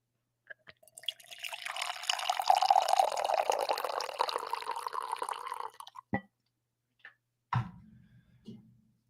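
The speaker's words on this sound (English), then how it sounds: "You guys want another pour?" Liquid pours steadily into a glass for several seconds with a rising fill tone, then stops, followed by a few sharp taps and clinks.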